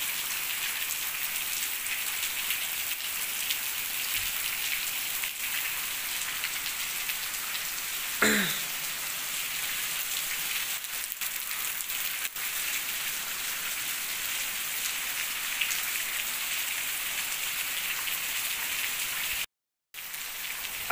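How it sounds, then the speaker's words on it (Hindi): Heavy rain pours steadily in the Murree hills as a dense, hissing wash, with a brief thump partway through and a short dropout near the end. "ये बहुत ही तेज़ बारिश चल रही है यहाँ पे।"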